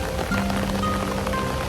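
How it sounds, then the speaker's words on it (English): Heavy rain falls at a Japanese onsen, a steady patter of drops on surfaces with a faint low tone underneath, brief and evenly dense throughout. "I know it's raining hard"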